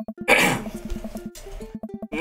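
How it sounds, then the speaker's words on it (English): Someone clears their throat in a few rough, guttural bursts close to the microphone, with short pauses and a final gravelly rasp. "I clear my throat and do my best cheesy announcer voice"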